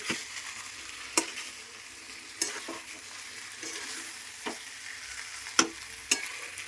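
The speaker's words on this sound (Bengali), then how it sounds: "চিংড়ি মাছটা দিয়ে দিলাম, ভালো করে মিক্সড করে নিচ্ছি" Prawns fried in oil in a pan with a soft continuous sizzle, punctuated by a handful of sharp, intermittent scraping stirs of the spatula.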